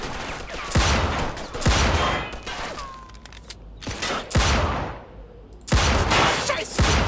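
Gunfire from Mafia II: Definitive Edition, with a Magnum revolver and a 9mm pistol. Several loud, sharp shots crack out in separate bursts with short gaps, each followed by a brief echoing tail, and no talking over them.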